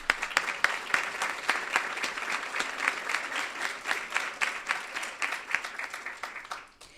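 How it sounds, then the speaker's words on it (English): An audience at a celebration of women leaders gives a round of applause, the clapping steady and moderately distant with individual sharp claps standing out, holding for about six seconds before tapering off at the end. "Please join me in giving them another round of applause."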